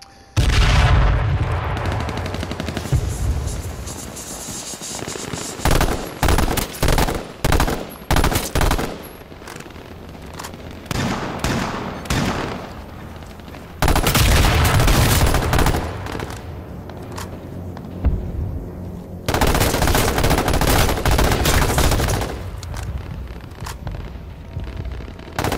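Heavy gunfire in H1Z1: Battle Royale, loud dense bursts and rapid volleys with short gaps between them, going on almost the whole time with no talking.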